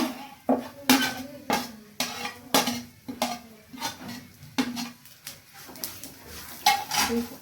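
Grated coconut is added to a pot of kayi gojju and worked with a metal utensil, producing a rhythmic series of close scraping clinks against the pot, about a dozen strokes with short pauses between.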